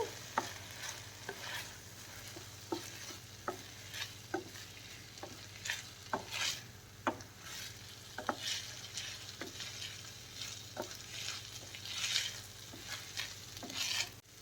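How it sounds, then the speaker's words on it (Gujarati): Cooked rice stirred into vegetables in a pan for Gujarati potato rice, a soft sizzle running underneath while a spoon scrapes and taps at a regular rhythm, close and fairly quiet, with no talking. "એ ભાત એમાં એડ કરી દઈશું અને એ ભાતને સારી રીતે મિક્સ કરી દઈશું વેજીટેબલ સાથે"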